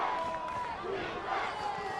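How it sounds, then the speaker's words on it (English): A high school football crowd at a Plymouth South vs Quincy game chants late in the fourth quarter. The noise forms a sustained, fairly loud roar of many voices, with a commentator's voice faintly underneath. "Crowd chanting defense,"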